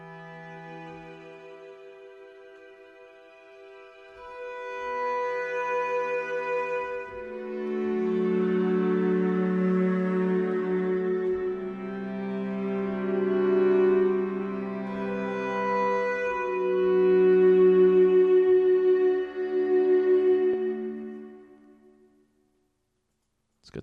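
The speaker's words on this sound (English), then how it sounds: "So I'm just using the hall sound." Sustained instrument chords played through the hall setting of Spitfire Audio's AIR Studios Reverb plugin, long swelling tones with a lingering tail that decays into silence at the end, heard alone.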